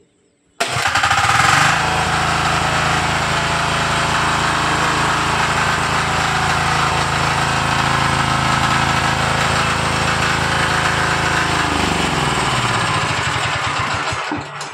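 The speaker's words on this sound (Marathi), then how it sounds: "त्यानंतर हा नॉब फक्त प्रेस करायचा आहे, मशीन चालू होऊन जातं।" A diesel engine starts abruptly and runs at a steady, loud idle with a rough rattling hum, then winds down and stops near the end.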